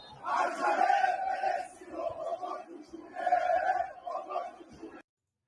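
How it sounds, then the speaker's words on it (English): Huge stadium crowd in Iran chanting in unison, two rhythmic phrases of massed voices rising and falling, a distant, reverberant roar that cuts off abruptly at the end. "this is the huge crowd in a stadium in Iran chanting this"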